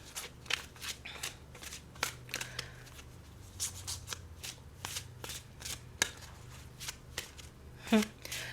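Angel number cards are shuffled in a series of quick, crisp riffling bursts close to the microphone, repeating roughly every half second over a quiet background.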